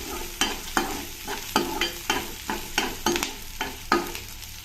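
Garlic, curry leaves and chopped onion fry in hot oil, a steady sizzle broken by regular spoon scrapes and stirs, about one every half second, close and clear with no talking.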